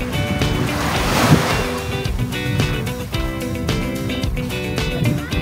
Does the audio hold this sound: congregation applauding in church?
no